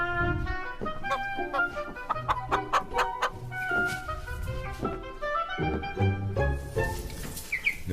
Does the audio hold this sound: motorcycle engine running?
no